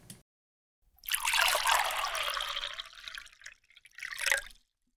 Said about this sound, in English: Water is poured,